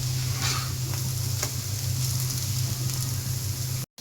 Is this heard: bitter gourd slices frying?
yes